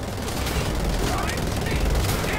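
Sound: gun firing in the video game Wolfenstein The Old Blood

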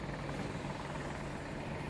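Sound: attack helicopter in video game Battlefield 2042

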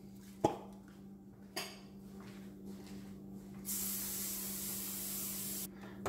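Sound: cooking spray on baking pan

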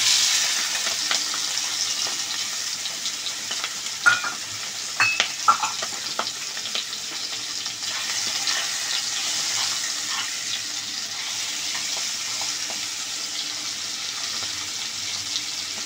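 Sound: prawns frying in a pan

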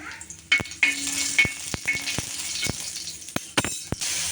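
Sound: garlic frying in oil in a pan

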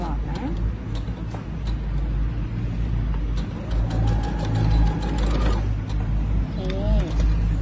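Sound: Brother sewing machine stitching a child's bucket hat

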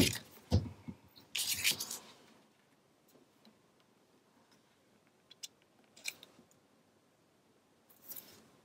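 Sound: scissors trimming paper fishtail

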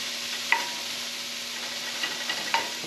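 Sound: onion being sautéed and stirred in a pan

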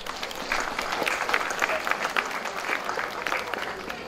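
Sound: applause at festival

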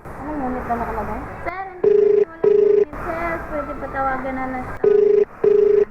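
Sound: phone call ringing unanswered

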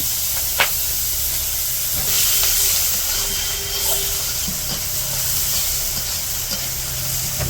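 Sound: onion and green chilli sizzling for fish curry

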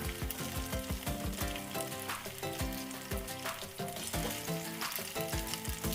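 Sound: frying oyster batter pancake (hoi tod) in oil

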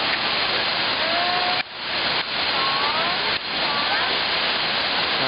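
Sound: limestone waterfall

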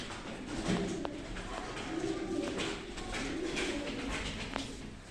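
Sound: birds

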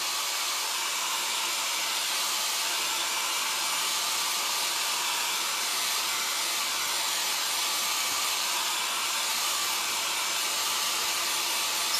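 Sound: hair dryer blow drying a craft transfer

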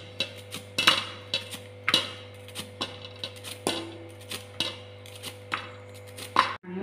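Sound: knife chopping bitter gourd into slices

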